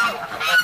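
Startled ducks and geese honk and squawk in a continuous, agitated jumble at close range outdoors, harsh nasal calls overlapping with no pauses.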